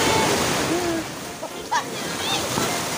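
Waves surge and wash in a continuous broad roar, with occasional splashes standing out over the churning water.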